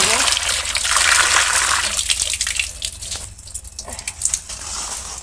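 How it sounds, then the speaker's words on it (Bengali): Running tap water gushes and splashes as a rohu fish is washed in a village kitchen, the flow loud and close and then turning to trickles and drips, with someone talking over it. "মাছটা এখন ধুয়ে নেবো।"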